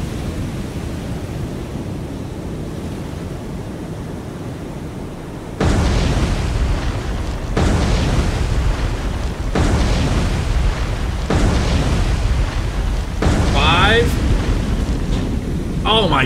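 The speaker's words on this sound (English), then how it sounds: "we got 5 out of the 6 that detonated on this massive heavy cruiser" Torpedoes detonating one after another against a heavy cruiser in the naval game War on the Sea, a sequence of deep rumbling booms that roll into sustained roaring, loud and continuous over a steady sea-and-wind wash.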